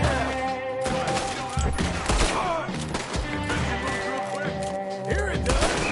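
Gunfire in the video game Red Dead Redemption 2, a loud volley of sharp shots mixed with thuds over a backdrop of music and game ambience, with voices talking between the bursts.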